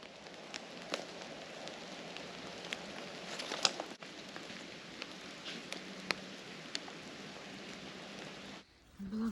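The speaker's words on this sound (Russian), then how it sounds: "Дождик не собирается заканчиваться." Light, steady rain pattering on leaves and ground in a forest campsite, with occasional sharper drips; no talking, and the sound drops off briefly near the end.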